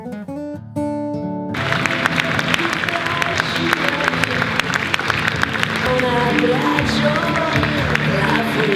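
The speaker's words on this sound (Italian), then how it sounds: "a fine serata riceve un lunghissimo e meritato applauso" After a brief musical phrase, a theatre audience breaks into long, sustained applause at the end of a performance, dense clapping continuing steadily to the end.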